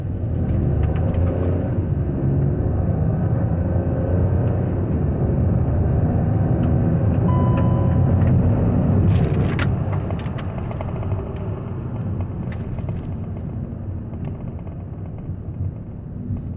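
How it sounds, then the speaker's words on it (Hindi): A 2020 Hyundai i20 with a 1.0-litre turbo engine and DCT gearbox accelerates hard on the road, its engine note rising as a loud, steady rumble that eases slightly toward the end, with no talking. "अब फिर से क्विक एक्सेलरेशन अगर टेस्ट लें"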